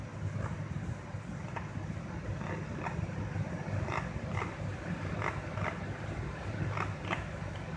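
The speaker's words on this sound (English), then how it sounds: "This is uncalled for the train to be for the train to be going at this slow rate" A commuter train creeps slowly along the rails, heard from inside as a low continuous rumble with faint, regularly spaced clacks.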